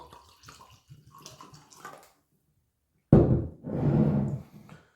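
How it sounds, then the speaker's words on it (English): Quiet clinks and handling noises give way to a sudden gurgling pour of Jameson Stout Edition stout beer from a bottle into a glass, foaming and glugging close up for about two seconds. "We've got to make sure we give it a good pour."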